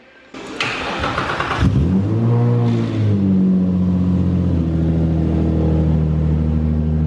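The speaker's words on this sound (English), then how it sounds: "Start the car, dang it." A Subaru car engine cranks and catches, revs up briefly, then settles into a steady idle heard close by.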